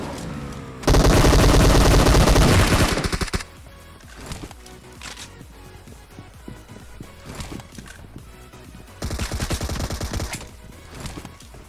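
Battle royale mobile game in a warehouse area, with dense, loud bursts of rapid automatic gunfire that drop to sparser scattered shots and clatter, then return as another heavy burst near the end.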